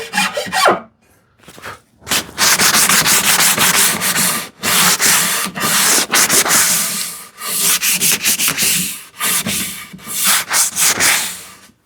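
Wood being sanded by hand with sandpaper on a shoe tidy project, loud close rasping strokes in a steady back-and-forth rhythm with brief pauses between runs, no voices.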